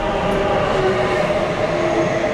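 A train in Luxembourg rumbles steadily along the rails from inside a carriage, with a constant low roar and faint metallic whines rising and falling.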